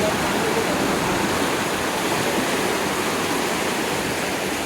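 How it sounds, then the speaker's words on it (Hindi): Fast-flowing stream water rushes in a loud, steady roar, an unbroken wash of noise with no pauses or voices. "ये इतना तेज जाएगा तो पानी का शोर उतना ही आएगा ना।"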